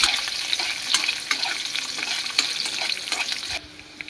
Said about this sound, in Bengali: কাজু কিশমিশগুলো হালকা করে ঘিতে ভেজে নিলাম।